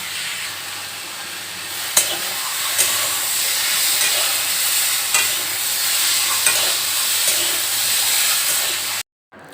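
Potato and ridge gourd curry cooks in a wok at home, giving a steady loud sizzle and hiss with occasional clacks of stirring, running alone until it cuts off near the end.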